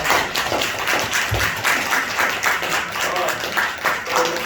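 Members of a church congregation at a Christmas Sunday service applaud during a flower-bouquet presentation; continuous, loud, close-sounding clapping from a crowd, with murmured voices mixed in underneath.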